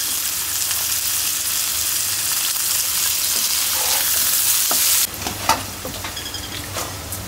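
Old potatoes frying in hot oil in a pan, a steady loud sizzle running throughout that thins out toward the end while a spoon stirs and scrapes.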